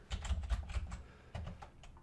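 A computer keyboard is typed on nearby in two quick clusters of soft, clicky keystrokes with a brief pause between them.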